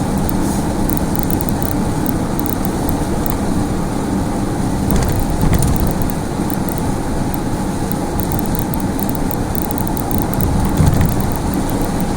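Heavy downpour pounds steadily on a moving truck with a dense, loud hiss and drumming, while the engine and road rumble underneath and thunder rolls in faintly for a stretch.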